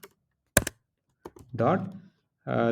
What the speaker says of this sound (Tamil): இப்படி தான் டைப் பண்ணுறேன்